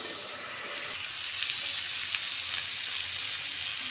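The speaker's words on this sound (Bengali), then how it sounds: "তাহলে মশলাটা তেল ছাড়ুক, তারপরে আমি আসছি আবার" Spice paste for a koi fish curry fries in oil in a loud, dense sizzle that runs steadily, with a few faint stirring ticks and no talking.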